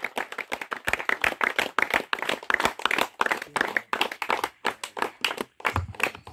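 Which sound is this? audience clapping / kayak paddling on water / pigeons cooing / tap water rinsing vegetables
audience clapping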